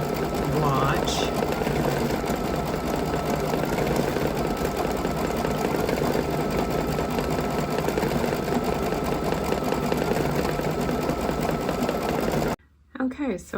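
A computerized embroidery machine stitches a patch on water-soluble stabilizer, its needle chattering in a rapid, steady mechanical whir that runs loud and unbroken nearly the whole time before cutting out near the end.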